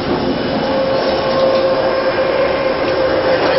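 Steady loud rumble and whine of a Barcelona metro train in motion, continuous and droning with a faint tonal hum.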